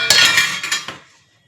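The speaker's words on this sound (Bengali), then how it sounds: "এখানে ঢাকা দিয়ে দিচ্ছি মাছটা, এবার আমি আরেকটা ঢাকা দিয়ে দিচ্ছি" A metal lid clatters onto a cooking pot set in hot water with fish inside, giving a bright close clink and a short rattle that settles and fades within about a second.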